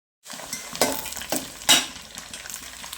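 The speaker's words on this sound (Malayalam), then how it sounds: "ഇനി ഇതിലേക്ക് മുളക് പൊടി മഞ്ഞൾപ്പൊടിയൊക്കെ പരട്ടി വെച്ചിരിക്കുന്ന ചെമ്മീന് ഓരോന്നായി ഇട്ട് കൊടുക്കാം ഇതൊന്ന് ഇളക്കി കൊടുക്കാം" Prawns coated in chili powder and turmeric, frying in hot oil for pickle, with steady sizzling and a few sharp scrapes and clinks as they are stirred in the pan.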